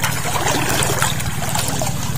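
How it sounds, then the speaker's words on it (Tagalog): Water from a spring flows steadily with a broad, unbroken rushing and trickling wash. It is close and fairly loud, with no voices. "Yan yung agos sa bukal-bukal pa."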